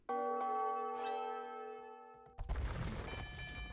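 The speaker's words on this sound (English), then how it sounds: "There's a town bell from red." A town bell rings in a game of Age of Empires II, a few clear tonal bell strikes with long ringing decay, followed by a burst of battle noise and crashing.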